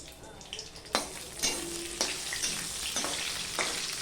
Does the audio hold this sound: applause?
no